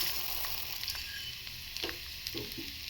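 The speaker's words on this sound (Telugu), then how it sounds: "ఇవన్నీ ఇలా దోరగా వేసుకునేయండి" Fenugreek, mustard seeds, cumin, urad dal and chana dal roasting in a pan, a faint steady sizzle with light stirring taps, quiet and close, no talk.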